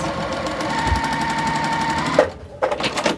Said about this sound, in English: So we're just going to sew that to that.